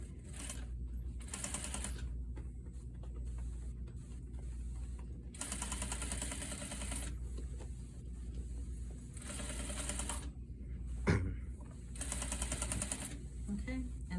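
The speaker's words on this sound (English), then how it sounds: "you would go back in and then top stitch" A sewing machine topstitching a bias armhole finish runs in several bursts of rapid rattling stitches separated by short pauses, close and clear, with a sharp knock near the end.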